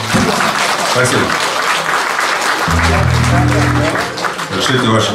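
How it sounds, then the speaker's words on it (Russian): Audience applause fills a concert hall during the second half of a show: dense, steady clapping throughout, with a voice or tonal sound briefly rising over it midway. "Разрешите ваши аплодисменты и считать за одобрением."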